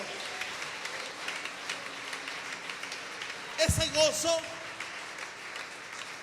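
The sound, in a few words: congregation applause in church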